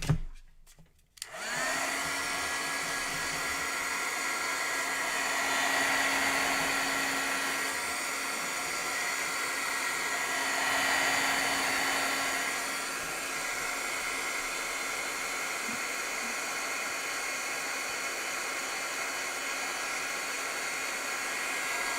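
A heat tool blows a steady, loud whooshing roar over paint on a canvas, switching on after a brief clatter and running continuously with slight swells in intensity.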